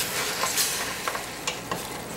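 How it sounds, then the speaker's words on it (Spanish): Tripe (mondongo) stirred in a cooking pot, with a steady sizzle of frying and a few soft scraping knocks of the spoon against the pot, close and even. "Entonces agregamos nuestro mondongo. y le vamos dando la vuelta a esto."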